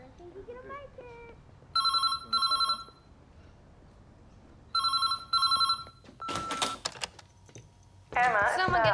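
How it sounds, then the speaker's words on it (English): A telephone rings in two-burst patterns, twice, loud and close, in a domestic drama scene, with voices talking and keyboard-like tapping around the rings. "Someone get the phone, please."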